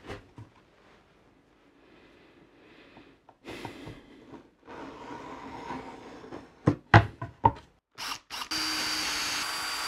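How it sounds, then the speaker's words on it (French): A power drill bores through a plexiglass sheet, with short loud bursts of drilling and handling noise building toward a steady whine near the end, after quieter rustling at the start. "maintenant il me reste à percer mon plexi pour le visser dans la planche."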